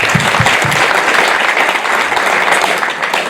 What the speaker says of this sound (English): Can you please give him another applause?